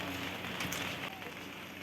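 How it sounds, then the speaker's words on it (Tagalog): Rain grows heavier outdoors at a family birthday visit, giving a steady, soft, close patter and hiss throughout. "Medyo lumakas na yung ulan."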